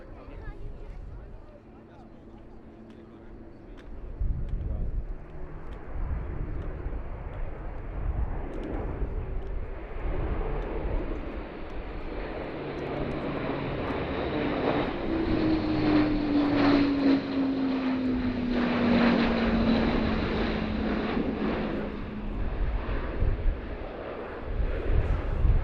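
A German Air Force Airbus A400M turboprop transport accelerates at an airshow, its loud propeller roar building steadily with a rising whine across the pass while a commentator talks over it.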